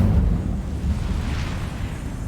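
Casting the Incendio fire spell in Hogwarts Legacy sets off a loud, roaring burst of flame that whooshes steadily for a couple of seconds, close and dense, with no voice over it.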